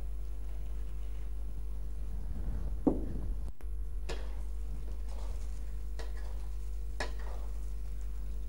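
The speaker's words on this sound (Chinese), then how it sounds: "然后继续煸炒，煸炒个2分钟，使其干辣椒的辣味和香味突出" Dried chillies stir-fried in a wok for a Sichuan hot pot base, with scattered scraping strokes and a light sizzle over a steady low hum, close and without talk.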